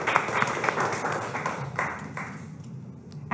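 Students in a Thai lower-secondary maths class clap to cheer on a classmate, a dense patter of hand claps that runs steadily for a few seconds and thins out toward the end.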